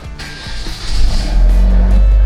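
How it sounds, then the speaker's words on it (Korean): A Hyundai Genesis Coupe engine cranks and catches, then settles into a loud, steady low idle rumble close by, with no one speaking. "이제 이 상태에서 차량이 시동을 걸고"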